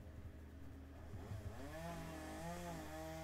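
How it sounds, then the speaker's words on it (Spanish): A chainsaw runs continuously in the soundtrack of the Final Fantasy IV: The After Years game, a steady buzzing drone that rises in pitch with revving partway through, loud and close with no talking. "el motosierra me está fastidiando la escena"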